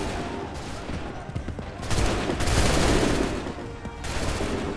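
Musket gunfire volleys in the Assassin's Creed III video game, a dense crackling fusillade that swells in the middle, with faint shouted commands under the shots.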